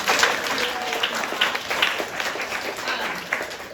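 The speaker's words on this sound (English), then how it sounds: "let's give her a round of applause" Audience applause for a guest speaker at a women's literature class, a steady wash of clapping from a room of students lasting the whole stretch, moderately loud with a few sharper individual claps standing out.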